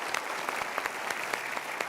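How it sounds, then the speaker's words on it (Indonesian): Audience applause at a motivational talk show, a steady two-second burst of dense clapping from a studio crowd, moderately loud and continuous. "Kita berikan tepuk tangan dulu."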